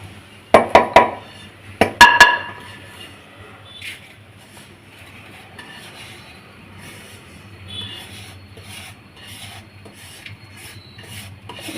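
Roasted spices for a coconut chutney powder are scraped from a hot pan onto a serving plate, with a few sharp metallic scrapes and clinks early on, then quieter rubbing and shuffling.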